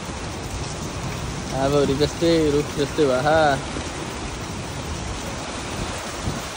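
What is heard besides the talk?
rain falling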